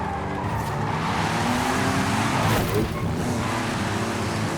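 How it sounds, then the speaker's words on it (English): A 2017 Jaguar F-Pace with four-wheel drive drifts in Forza Horizon 5, its engine droning steadily under a continuous tire squeal that rises briefly mid-slide, loud and unbroken throughout. "The four-wheel drive will try to make some drifts with the F-Pace 2017. So now let's do some drifts."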